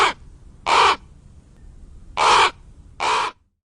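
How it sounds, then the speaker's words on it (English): Three deep, hoarse raven croaks, each about a quarter second long, spaced unevenly and loud against a quiet background, with the tail of a fourth call at the very start. "A raven has deeper and less piercing sound. Their calls may sound like croak, gronk gronk"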